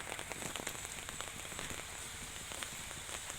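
Rain falls steadily on a rural home in southern Laos, a dense, even hiss of drops pattering on surfaces with no voices, close and constant throughout.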